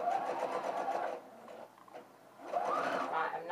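A sewing machine stitches an armhole and neckline facing in two close, steady runs, roughly a second each, separated by a short quiet pause.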